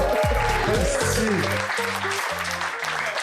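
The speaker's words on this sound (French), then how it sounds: "On applaudit JF de la voix, s'il vous plaît." Applause at a Quebec comedy show, crowd clapping under a loud voice and a sustained, stepping musical tone, the applause continuing as a dense wash throughout.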